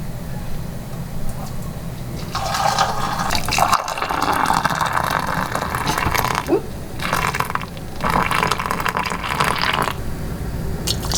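Hot dandelion jelly is poured and ladled into glass canning jars, with continuous liquid glugging and dripping, close and fairly loud, and brief clinks of glass among the pours.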